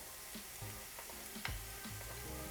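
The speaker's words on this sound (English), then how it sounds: "We're going to go in with some minced garlic now." Minced garlic and golden, soft onions fry in olive oil in a pan, giving a quiet, steady sizzle broken by a few soft stirring ticks.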